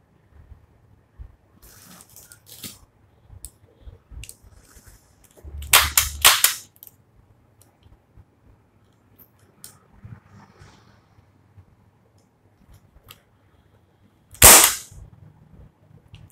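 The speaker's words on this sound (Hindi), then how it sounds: "मैं फायरिंग भी आपको करके बता देता हूँ।" An air pistol fires with a short burst of sharp snaps about a third of the way in and one louder, crisp crack near the end, separated by quiet handling noises.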